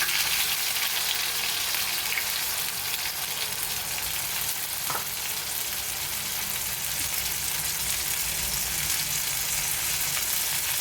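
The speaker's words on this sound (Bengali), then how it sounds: "তেল ভালো গরম হয়ে গেছে, দিয়ে দিচ্ছি কাজু পেস্টের" Cashew paste fries in a tablespoon of hot oil in a pan, giving a soft, steady sizzle that runs evenly throughout with no talking.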